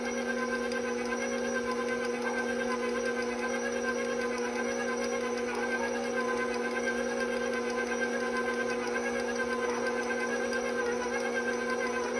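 A stand mixer beating M&M cookie dough at medium speed, a steady whirring motor hum with a constant tonal drone and faint rhythmic churning, close and unbroken with no talking.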